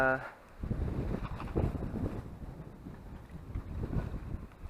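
Strong wind buffets the microphone beside a lake during a fishing trip, a loud rumbling roar in uneven gusts, with someone speaking over it briefly at the start.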